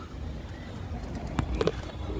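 A pigeon sitting on a rooftop gives a soft, low coo, a brief couple of muffled notes near the end of an otherwise quiet stretch with faint background hum.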